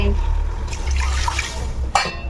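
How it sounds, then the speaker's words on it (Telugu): Water is poured onto rice in a pot for pulao, a steady splashing stream with a brief louder splash near the end. "నాలుగు గ్లాసులు బియ్యానికి ఎనిమిది గ్లాసులు వాటర్ వేస్తున్నాడు"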